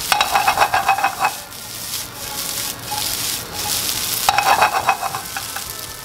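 Finely chopped meat seasoned with salt and pepper sizzles loudly in a frying pan while a utensil scrapes and stirs it in repeated bursts, close up with no voices.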